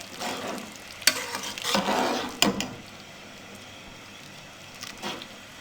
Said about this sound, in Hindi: अब इनको अच्छे से मिक्स करेंगे।